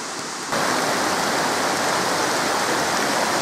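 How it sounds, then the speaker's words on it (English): Steady, full roar of cascading water from the tiered Seven Falls in Bear Canyon near Tucson, Arizona, constant and loud, with no voices. "hikers finally come into view of the magnificent tiered waterfalls of Seven Falls."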